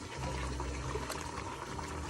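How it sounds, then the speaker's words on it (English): Boiling water is poured into a pot of turkey stock, a continuous close splashing trickle that runs for the whole stretch with no voices over it. "You're also going to take some of that boiling water and add it to your stock"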